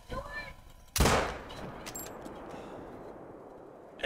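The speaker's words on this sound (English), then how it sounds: "So we're gonna shoot him." A single sharp rifle shot cracks out loud and close in the hunting game theHunter: Call of the Wild, aimed at a whitetail deer. Its tail decays into a short rumbling echo with quiet background ambience.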